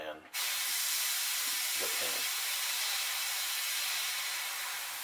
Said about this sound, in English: I'm gonna spray just the outside edge of this stencil